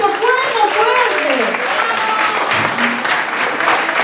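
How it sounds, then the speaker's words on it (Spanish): Loud, sustained applause from a workshop audience fills the whole stretch, steady and dense, with voices talking over it. "Ese aplauso que se escucha fuerte, fuerte."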